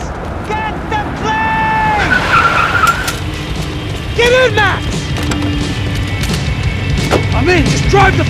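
Car in Max Payne 3 driving and skidding, with repeated tire screeches and engine noise under shouted talk, loud and close with sporadic impacts.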